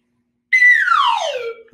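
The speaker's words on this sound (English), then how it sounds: "This is our slide whistle warm up." A slide whistle warm-up in a classroom music lesson: one loud swooping tone that starts high after a brief silence and glides steadily downward, close and alone.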